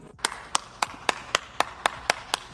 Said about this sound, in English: I had to clap, bro.